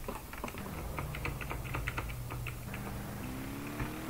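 Quick bursts of clicking keys on a computer keyboard as a bind command is typed for a game, close and fairly crisp, with a low steady hum underneath.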